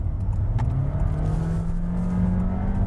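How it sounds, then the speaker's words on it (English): A 2026 Honda HR-V Hybrid, a front-wheel-drive compact SUV, is driven quickly around a roundabout, its engine holding a steady, fairly loud drone with road and tyre noise throughout. "I'll try and take this roundabout quite quickly"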